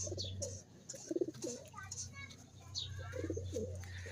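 Newly bought pigeons cooing, a fresh pair calling in a loft, with a steady low hum beneath and soft bird chirps scattered through; brief throaty coos come and go at moderate distance.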